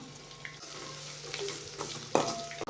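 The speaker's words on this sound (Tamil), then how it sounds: "இப்போ லேசாக இதை நல்லா கிளறி விடுங்க." Onions frying in a pan for a sardine curry, stirred with a utensil: a continuous close sizzle with scraping stir sounds and a sharp clatter near the end, no speech.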